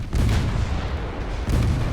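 Battleship main guns firing in Ultimate Admiral Dreadnoughts, two heavy booming blasts about a second and a half apart, each with a dense low rumble that lingers between shots.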